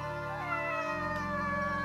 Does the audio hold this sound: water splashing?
no